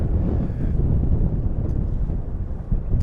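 Strong wind gusts roar across a lake during bass fishing tournament practice, buffeting the microphone in a continuous, loud rumble with no voices.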